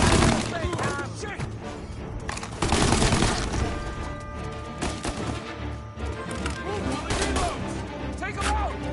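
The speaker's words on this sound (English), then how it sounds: "You're taking fire!" Rapid bursts of gunfire in the Mafia Definitive Edition video game, loud clustered shots in quick succession alongside frantic shouting voices.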